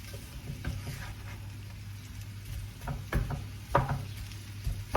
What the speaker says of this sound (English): I'm just trying to separate that onion a little bit. I'm trying to get some of that garlic to the top here